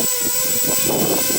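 A small Tarot 130 quadcopter drone hovers nearby at about half throttle with a steady, high-pitched whine and whir of spinning propellers, some wind buffeting underneath.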